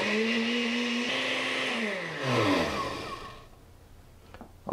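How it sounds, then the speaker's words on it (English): A blender purees cream of asparagus soup with a loud, whining motor whose pitch drops and shifts as the blades work through the liquid, then cuts off about three and a half seconds in, leaving quiet kitchen noise. "I'm just going to put this right into my blender."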